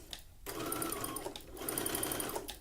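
Sewing machine backstitching a seam on a tankini swimsuit, two close whirring runs split by a brief pause, soft and near.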